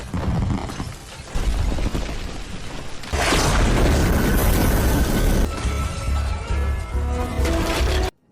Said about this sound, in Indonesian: Alhasil ledakan besar terjadi melumat wilayah pemukiman di dekatnya yang berkilo-kilometer jauhnya.